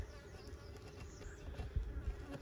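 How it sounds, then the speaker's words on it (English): A bee buzzes close by outdoors near an open hive jar. The buzzing is faint and wavers continuously as the insect moves about, with no talking. "I hear a bee coming close to me"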